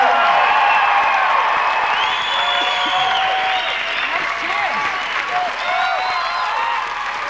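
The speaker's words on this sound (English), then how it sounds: "let's give all five of our finalists a big round of applause." A large studio audience at a televised comedy competition finale applauds and cheers for the finalists, loud sustained clapping mixed with whoops and shouts running the whole way through.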